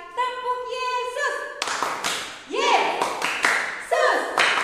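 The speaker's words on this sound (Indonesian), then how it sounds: "Kita coba sekali lagi ya. Tepuk Yesus" Children clap a Sunday school clapping rhythm called Tepuk Yesus, sharp claps and taps in short bursts mixed with voices chanting along.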